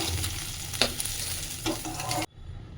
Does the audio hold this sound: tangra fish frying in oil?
yes